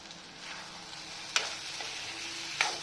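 Lentils for a ridge gourd and tomato dal sizzle steadily in a hot pan, a continuous soft frying hiss with two sharp clicks as the lid is handled.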